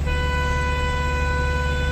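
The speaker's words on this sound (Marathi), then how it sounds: "हॉर्न करा, हॉर्न करा" A truck horn blares in one long, unbroken honk on a steep hill climb, loud and steady for the whole two seconds over a low engine rumble.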